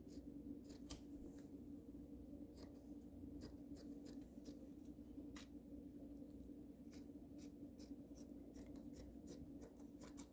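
Scissors snip through fabric for a one-shoulder draped dress, a steady run of short crisp cuts in quick irregular bursts over a low constant room hum, close and fairly quiet with no talk.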